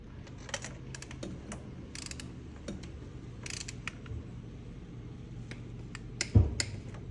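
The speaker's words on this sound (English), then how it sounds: "we're gonna set that torque wrench to that" A torque wrench set to 22 foot-pounds tightens spark plugs on an Audi B9/B9.5 RS5, giving a run of light ratcheting clicks close by and ending in one sharper, louder click near the end.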